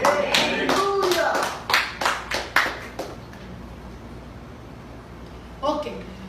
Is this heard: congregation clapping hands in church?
yes